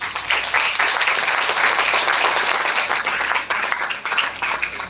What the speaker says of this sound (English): And if possible, 1 round of applause, please.